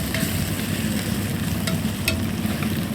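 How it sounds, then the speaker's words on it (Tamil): Onions with ginger garlic paste sautéing in a pan for chicken biryani, a steady close sizzle with faint scraping stirs throughout, no voices. "நல்லா அதோடைய பச்சை வாசனை போகிற அளவுக்கு நல்லா வதக்கலாம்."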